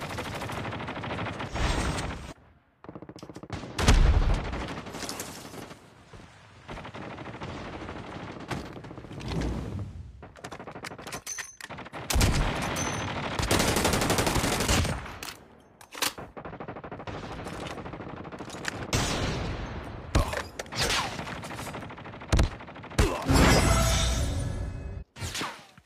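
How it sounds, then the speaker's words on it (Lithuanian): Gunfire from a Call of Duty match watched at a tournament: bursts of automatic fire and single shots come in loud, dense clusters separated by brief quieter gaps, with occasional whooshes across the stretch. "Kas čia ten taip gerai šaudo, aš nesuprantu"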